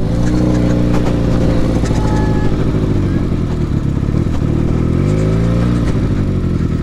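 A 300 cc motorcycle being ridden gives a loud, close, continuous engine drone whose pitch rises and falls slightly with the throttle.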